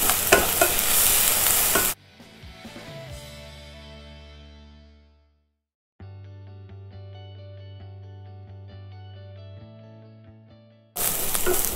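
Greens sauté in a pan for sundal, a brief close sizzle and stir at the start and again at the end, with a stretch of tonal music filling the middle.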